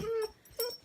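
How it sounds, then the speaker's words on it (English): A nervous dog whimpers indoors, two short high-pitched whines close by, the first longer than the second, with a quiet pause between. "I'm sorry, that's my dog."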